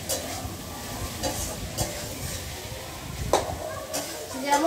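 Food stirred and sizzling in a pan during home cooking, a steady frying hiss with intermittent scraping stirs and soft utensil knocks, close by, with faint voices in the background.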